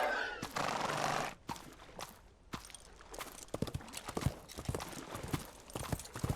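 Horse in the Western Rye video game, with a burst of neighing followed by a run of clip-clopping hooves walking at a steady, uneven pace, fairly close.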